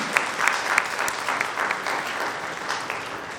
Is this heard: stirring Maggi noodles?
no